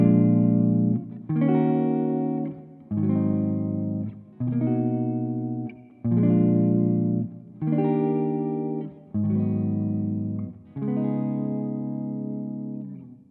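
Electric guitar with effects plays a chord progression in a minor key with one chord switched to major, eight evenly spaced sustained strummed chords with short gaps between them, heard alone.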